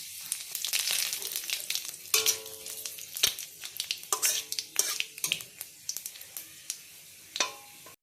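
Panch phoron spices, dry red chilli and bay leaf hitting hot oil for a Bengali mixed-vegetable curry, giving a crackling sizzle with sharp pops and spoon-against-pan clinks that thin into scattered spits toward the end.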